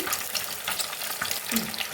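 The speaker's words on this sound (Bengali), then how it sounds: "এই ডিম দুটোকে পুরো ঝুড়ি ভাজা মতন করে ভেজে তুলে নেব নাড়তে নাড়তেই হয়ে যাবে" Two eggs fry and get stirred for chicken fried rice, a close crackling sizzle broken by quick scraping strokes of a spatula.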